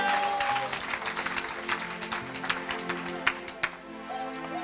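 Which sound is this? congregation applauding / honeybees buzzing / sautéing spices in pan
congregation applauding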